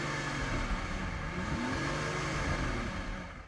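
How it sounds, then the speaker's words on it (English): A deep luxury-car V12 engine rumble rising and holding steady in a continuous rev, close and fairly loud, with no voices. "let's just have a listen to these cars' V12 engines"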